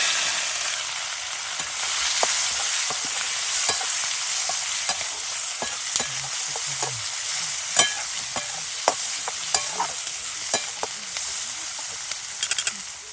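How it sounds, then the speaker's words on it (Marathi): Finely chopped onion and capsicum stir-fry in hot oil with ginger garlic paste, giving a continuous close sizzle broken by repeated sharp clicks and scrapes of a spoon against the pan. "याच्यामध्ये हे बारीक चिरलेला कांदा आणि शिमला मिरची ते टाकून घेते"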